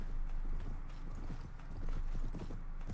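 Horse hooves clip-clop in a rapid galloping rhythm inside a video game battle, moderately loud and continuous over low background rumble.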